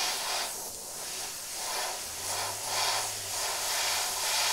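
An airbrush sprays red paint onto a clown mask, giving a steady, soft hiss in fluctuating bursts, close by and alone with no talk.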